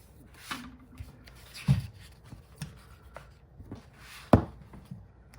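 Scissors cutting paper while decorating a French language learning journal: a few sparse, crisp snips and soft paper rustles, close and quiet, with no talking.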